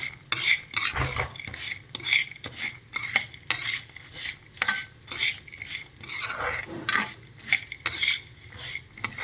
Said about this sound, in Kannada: ಇದೊಂದು ಐದು ನಿಮಿಷ ಚೆನ್ನಾಗಿ ಕೈ ಆಡಿಸ್ತಾ ನೀವು ಹುರಿಯೋದ್ರಿಂದ ಅದು ಚೆನ್ನಾಗಿ ಬೆಚ್ಚಗೂ ಆಗುತ್ತೆ